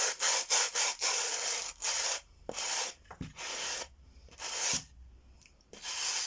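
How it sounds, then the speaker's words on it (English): A small wooden piece is sanded by hand in a series of close, rasping back-and-forth strokes, with short gaps between them and occasional light knocks, and no one speaking. "Sand that off a bit."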